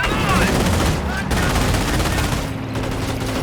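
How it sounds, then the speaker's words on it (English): Half-track machine gun in the Company of Heroes video game firing sustained bursts over dense battle noise, loud and continuous, with other gunfire and rumbling explosions mixed in. "they add additional firepower to the half-track's own machine gun"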